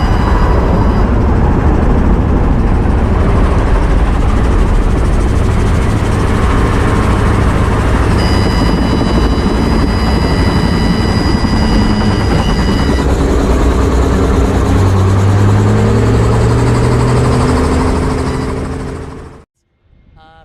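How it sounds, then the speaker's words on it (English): A helicopter thrums loudly and steadily close by through a simulated engine-off, 180-degree full-down autorotation landing, its rotor and engine drone running continuously before cutting off abruptly at the end. "Watch this simulated engine-off landing as the pilot performs a 180-degree"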